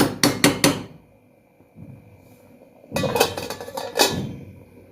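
A metal lid is set onto a pot of chicken curry, giving a quick cluster of clanks at the start, then a quiet pause before another burst of metallic knocks and rattles.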